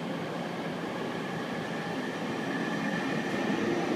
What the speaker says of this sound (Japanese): 3番線電車到着です。